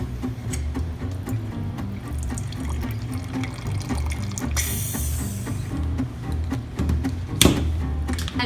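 Wine poured from a bottle through a needle-style preservation tool that pierces the cork: a steady liquid stream runs for several seconds over a low background hum, with a brief louder splash near the end.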